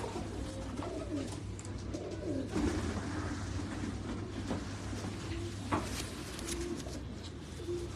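Pigeons coo softly in a loft or yard, low repeated rolling calls scattered through the clip against a steady background hum, with faint knocks now and then.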